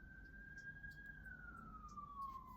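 A distant ambulance siren wails in a long, slowly falling tone over a low background rumble, faint and far off.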